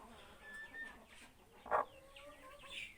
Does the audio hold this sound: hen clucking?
yes